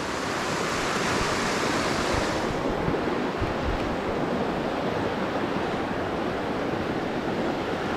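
Lincoln Brook, near its junction with the east branch of the Pemigewasset River in the White Mountains, rushes in a steady, loud, broadband roar close by under a footbridge, continuous and without talk.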